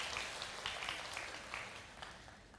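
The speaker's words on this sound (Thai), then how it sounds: "ขอให้ทุกท่านปรบมือให้กับนักเรียนและคุณครูของโรงเรียนบ้านหนองปลาข้างด้วยค่ะ" An audience at a Thai school teacher-training event applauds students and teachers, with steady, fairly faint clapping that runs continuously throughout, no voices over it.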